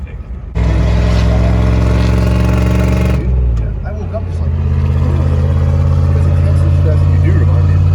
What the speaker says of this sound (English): And we got traffic.